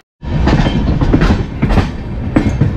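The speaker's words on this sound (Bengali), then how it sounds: "খুর্দা থেকে আমাদের ট্রেন ছাড়লো" A 12664 Howrah Superfast Express pulls out of Khurda, heard from inside a general-class coach: loud, continuous wheel rumble and rhythmic clickety-clack over the rails, with uneven jolts and rattles.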